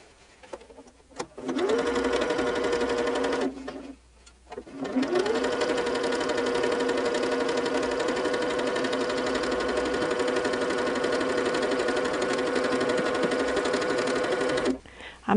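Sewing machine stitching a seam in very pale pink fabric for a Valentine's project, running steadily for long stretches with two brief pauses near the start, loud and close.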